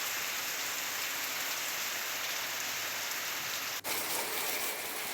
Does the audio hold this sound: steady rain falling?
yes